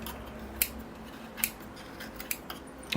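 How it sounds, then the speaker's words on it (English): Small scissors snip moss back from the lip of a bonsai pot, giving a few sharp, close, crisp cuts spaced irregularly over a quiet background. "I'll have to just make sure I've got my moss trimmed back from the lip of the pot."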